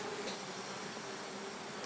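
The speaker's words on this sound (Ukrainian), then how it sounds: "Бджілка летить у всі вікна, які тільки є" Honeybees in flight around busy hives during a forest-herb nectar flow, a steady close insect hum holding evenly throughout with no voices.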